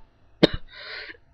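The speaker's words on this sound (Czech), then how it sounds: "Mám trochu kašel." A single sharp cough bursts out close to the microphone, followed by a short throat sound and a brief breathy rasp, with silence around it.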